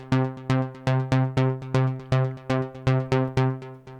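Synth arpeggio from the BlueARP arpeggiator in fixed arp mode, playing a polyrhythmic EDM trance pattern: a steady stream of bright, plucky repeated notes with accents recurring in a regular cycle, loud and alone with no voices.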